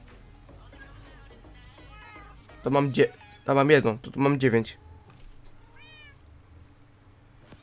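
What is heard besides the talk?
cats meowing in video game Minecraft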